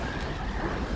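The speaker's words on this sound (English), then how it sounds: "There's water everywhere." Steady broadband wash of water filling a room in the video game Darksiders, a continuous surf-like rush with a low rumble, even and unbroken throughout the short moment with no voices.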